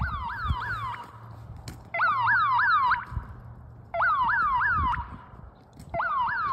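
A security alarm goes off on a residential street, blaring in loud, rapidly rising electronic sweeps. Bursts of about a second repeat roughly every two seconds, with quieter traffic rumble filling the gaps.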